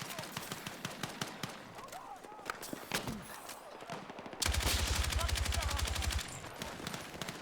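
Rapid automatic gunfire crackles in dense bursts during a Breakthrough defense round of the Battlefield 6 open beta, with one louder sustained stretch of fire after a run of scattered shots.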